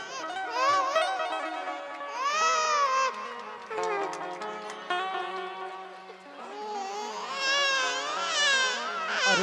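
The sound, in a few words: baby crying, infant Krishna's cry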